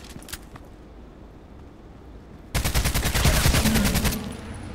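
Sniper gunfire in a video game: a quiet stretch with a couple of faint pops, then a loud dense burst of rapid shots lasting about two seconds before tapering off.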